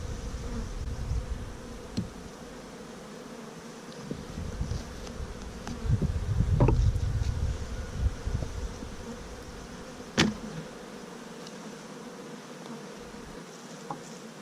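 Honey bees swarm and buzz around an opened hive during a first inspection after smoking, a steady insect drone that thickens and grows louder midway, with a few sharp clicks and knocks of hive parts being handled.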